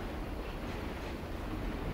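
A train in the video game Condemned rolls along with a steady, dense rumble and rushing noise, constant and loud throughout with no voices.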